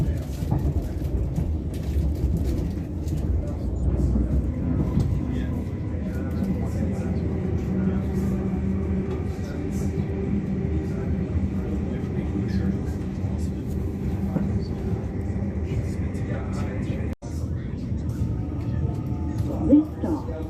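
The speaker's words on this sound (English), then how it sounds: "This train will stop at Hornsey." An intercity passenger train in motion, a steady low rumble and rolling drone continuing throughout, with announcements speaking over the running noise and a brief clunk near the end.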